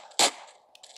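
A single loud gunshot burst fires in GTA San Andreas Definitive Edition, a sharp short blast followed by faint game ambience.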